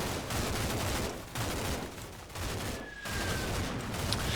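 MG3 machine gun fire in Combat Mission Shock Force 2, loud sustained bursts of rapid automatic shots with brief pauses between them, dense and close, no talking over it.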